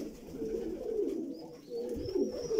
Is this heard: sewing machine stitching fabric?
no